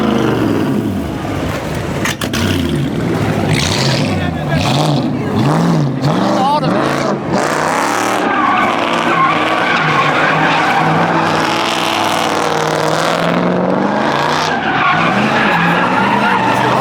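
At a hometown car meet in Virginia, cars rev loudly and skid with squealing tires, a dense continuous roar of engines and screeching rubber with excited shouting from the crowd over it.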